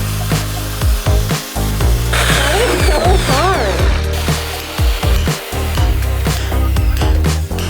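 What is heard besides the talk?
rotary hammer drilling into brick wall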